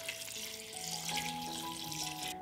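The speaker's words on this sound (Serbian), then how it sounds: "Napunit ću šerpu sa vodom" Tap water runs into a cooking pot for a batch of white beans, a continuous hissing rush whose pitch rises steadily as the pot fills. Close and fairly quiet, with no voices.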